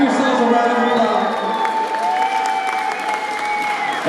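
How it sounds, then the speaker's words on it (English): Audience applause at a community event, a dense burst of clapping and some cheering, with tonal whistles or voices audible above it. "Give yourselves a round of applause."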